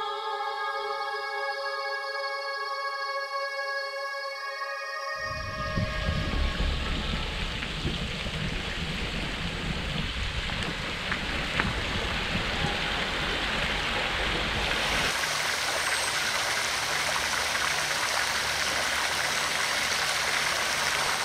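Fountains and water jets splash and rush continuously in a princely palace garden in Detmold, a steady broadband wash of falling water after a brief quieter tonal opening, close and fairly loud with no talk.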